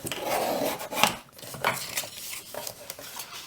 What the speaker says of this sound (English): let me just burnish this down